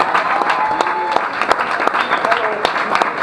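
Audience applause at a folk concert at a Debrecen folk festival, dense clapping with sharp individual claps standing out, with talking over it.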